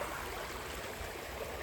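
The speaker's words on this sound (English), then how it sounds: "But now there is water coming in." Water runs steadily into the Glasson Branch of the canal, a continuous close rushing wash with no breaks and no voices.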